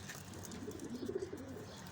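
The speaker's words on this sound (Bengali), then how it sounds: "এটা একটা বাজির গেমের কবুতর, সিলমারা" Soft, low cooing from sport-racing pigeons of the silmara type, heard close by in a short murmuring phrase with no talk over it.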